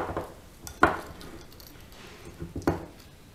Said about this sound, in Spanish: Y removemos.